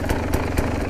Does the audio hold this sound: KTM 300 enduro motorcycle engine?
yes